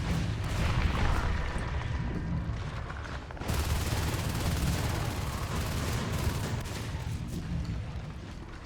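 Shotgun fire in the video game Natural Selection 2, heard as dense, continuous gunfire and booming impacts throughout a hectic fight, loud and close with a brief dip partway through.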